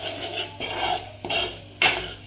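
Crushed peanut powder being mixed into a vegetable dish in a pan, with three or four distinct scraping strokes of a spoon against the metal, close and clear.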